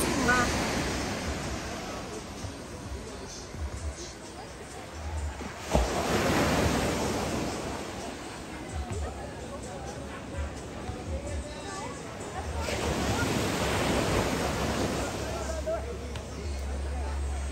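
Sea waves at Praia do Éden beach in Guarujá, a steady broad wash of surf with swells rising around six and thirteen seconds, mixed with wind noise on the microphone and a voice talking over it.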